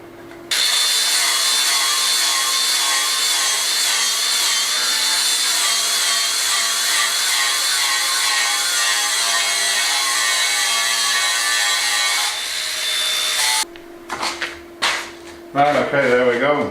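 Paint is rubbed off steel hinge parts for a BBQ smoker build before welding, giving a loud, continuous power-tool whine for about twelve seconds, then intermittent scraping and clattering handling noise.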